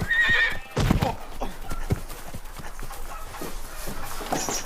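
A horse whinnies loudly at the start, followed by scattered hoof thuds and shuffling movement close by.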